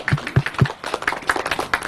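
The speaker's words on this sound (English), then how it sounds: "That deserves a round of applause" Small group applauding the hosts at a press conference in Bemus Point, a short round of clapping, a few loud distinct claps first, then faster, lighter patter.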